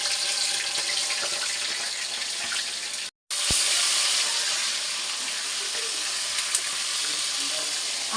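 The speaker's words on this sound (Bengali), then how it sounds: "মাছটা একটু ভাজা দিতে হবে।" Surma fish fries in hot oil, giving a continuous dense, bright sizzle up close, broken by a momentary gap partway through.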